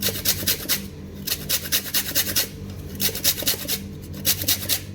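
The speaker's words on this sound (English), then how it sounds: "so just zest your lemon, add it to your guacamole" A lemon being zested on a grater for guacamole, with quick rhythmic rasping strokes in short bursts, close and crisp.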